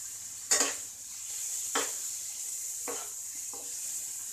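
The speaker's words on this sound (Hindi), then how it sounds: "अब इसमें हम डालेंगे भिगोया हुआ चना दाल जो हमने 2 घंटे भिगो के रखा था, और इसको भी इसमें मिक्स करेंगे अच्छे से" Soaked chana dal being stirred into a pan for a lauki chana dal curry, giving a few separate scraping, clinking spoon strokes over a soft steady sizzle.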